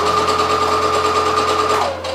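A sewing machine stitches woven fabric in a loud, fast, steady whir of needle strokes close by, then slows and winds down near the end.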